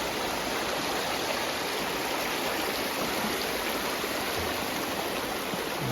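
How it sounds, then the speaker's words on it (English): A freshwater stream runs near a lake on a mountain trail, a steady, broadband rush of flowing water, close and even throughout, with no voices. "So there's a nice fresh water source."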